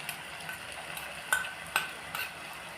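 Spice paste for Malabar prawns being stirred in a pan, a soft low sizzle broken by a few sharp utensil clinks and scrapes, fairly quiet and with no talking.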